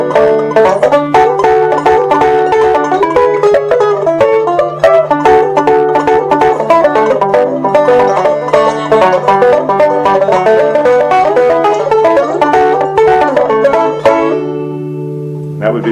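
Bluegrass banjo picking with bending, sliding notes that mimic a pedal steel guitar, steady and close, ending on a held chord.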